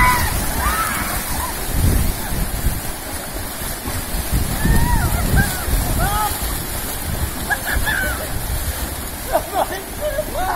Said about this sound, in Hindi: अभी आप पानी से पैर, पानी उछालो